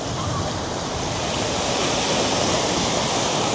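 Cool sea water at a beach in St. Augustine, a loud, steady wash of surf and wind that roars on without a break and drowns out any other sound.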